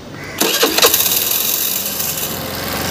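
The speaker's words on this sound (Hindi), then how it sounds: "अभी हम गाड़ी को स्टार्ट करते हैं" Suzuki Access BS6 fuel-injected scooter engine being cranked, a short burst of starter and engine noise that settles into a steady mid-pitched running hum, heard close and alone.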